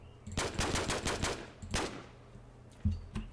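Rapid bursts of automatic gunfire in a video game, a fast rattling string of shots, then a short second burst and a couple of isolated thuds, fairly quiet overall.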